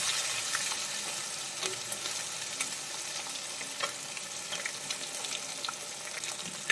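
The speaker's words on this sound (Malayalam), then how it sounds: "അപ്പോൾ മീൻ നന്നായിട്ട് പൊരിഞ്ഞിട്ടുണ്ട്." Fish frying in hot oil in a pan, a steady close sizzle with crackling pops throughout and no voices.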